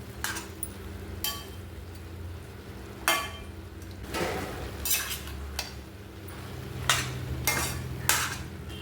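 Chopped tomatoes cook down in a pan for tomato pickle as a spatula scrapes and knocks against the metal every second or so, over a steady low sizzle, close up with no voices.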